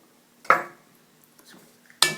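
Two quiet clinks of a spoon against a bowl while crab-lobster cake mixture is gently stirred, separated by soft faint scraping, no talking.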